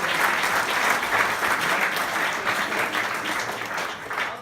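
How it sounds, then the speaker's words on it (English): An audience applauds at a live stage performance, a loud, dense, steady clapping from a crowd that carries on for the whole stretch. "I'm going to do this until you guys start clapping."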